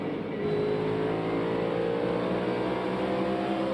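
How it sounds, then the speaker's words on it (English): A NASCAR Cup Series race car engine drones from inside the cockpit at Bristol Motor Speedway, holding a steady throttle tone with slight pitch shifts, fairly quiet and without voices. "I love to hear the in-car right there, being able to listen to him work the throttle."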